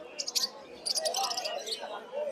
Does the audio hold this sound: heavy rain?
no